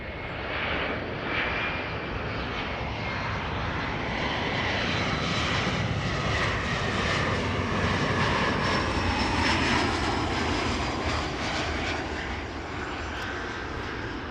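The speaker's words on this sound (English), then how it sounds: "KLM flight 1502, which is returning from Madrid, and that's one of the A321neos" KLM Airbus A321neo airliner returning from Madrid, heard arriving as a loud, sustained jet engine roar that holds steady and swells slightly near the middle, with no voices.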